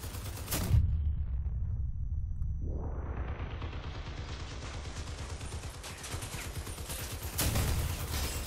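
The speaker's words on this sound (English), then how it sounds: "Okay, he's shooting me." Rapid bursts of gunfire rattle in Crossout, a dense stuttering volley at the start, a sustained rising mechanical whine with steady rapid pulses through the middle, and another sharp burst near the end.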